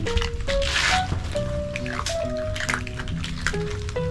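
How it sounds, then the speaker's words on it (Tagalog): Several dogs lapping and slurping water after a chicharon snack, with wet squishing and sloshing sounds close by. They continue steadily with no talking. "Tapos iinom na lang sila ng tubig."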